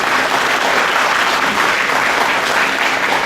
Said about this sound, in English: she deserves a round of applause from all of you for being a social inspiration